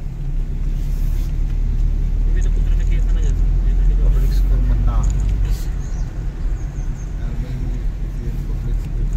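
A car on a South India road trip rolls along with a loud, constant low engine and road rumble, while voices talk over it throughout.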